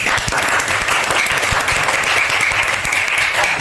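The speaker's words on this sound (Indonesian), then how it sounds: "Luar biasa, tepuk tangan." Loud, steady applause filling a classroom session, a continuous dense rush of clapping with no voices over it.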